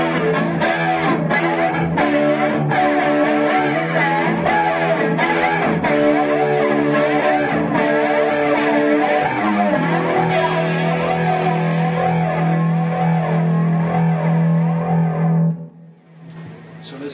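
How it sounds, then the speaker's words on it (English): An electric guitar runs through a TC Electronic Vortex flanger with drive from a Dark Matter distortion pedal, giving sustained, sweeping chords that ring loud and close, without talk, and then cut off near the end. "any flanger demo wouldn't be complete without adding a little bit of drive"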